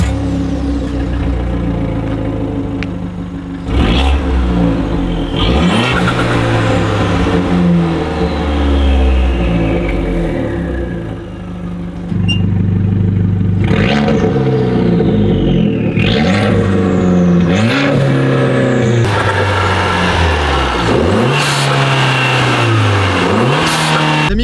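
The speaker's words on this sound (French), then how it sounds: "là vous pouvez bien entendre le dump valve" A Fiat 500 Abarth Stage 2 engine revs hard in repeated rising bursts, with the hiss and chatter of its dump valve as the throttle lifts, loud and close, without speech.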